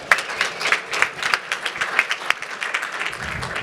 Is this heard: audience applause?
yes